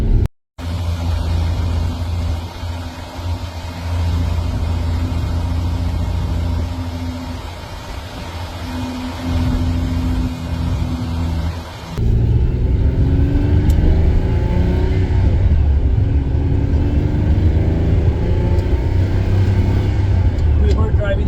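A Lamborghini Countach idles steadily after warming up, a loud low engine rumble that continues throughout, rising to a fuller, closer roar in the second half.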